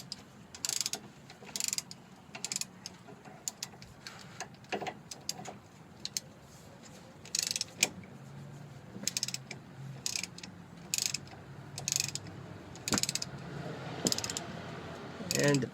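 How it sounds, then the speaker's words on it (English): Two 15mm bolts on a steering column are loosened with a wrench, giving short bursts of quick ratcheting clicks separated by pauses, close and fairly quiet. "So there are two 15mm bolts on it. Just need to loosen these up."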